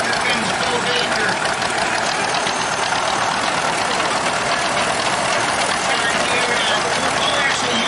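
A 1935 John Deere B tractor engine runs steadily at an outdoor threshers show, a dense, continuous mechanical chug with a broad noisy wash that stays loud and unbroken throughout.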